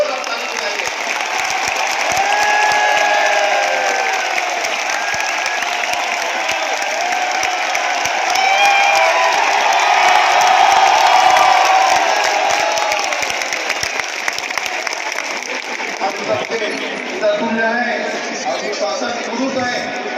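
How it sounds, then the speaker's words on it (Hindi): A large conference hall audience at a statewide health mission convention in Chhattisgarh claps loudly for the chief minister, a dense, sustained burst of applause that swells and then tapers into scattered claps and murmuring chatter. "जोरदार ताली बजाइए।"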